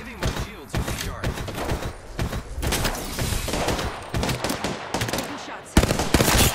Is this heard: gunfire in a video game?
yes